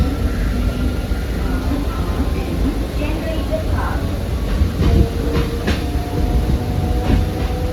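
A fast-moving passenger train rumbles along near Chengannur, a loud low steady roar heard from inside with faint rhythmic clatter, and a voice speaking over it at times.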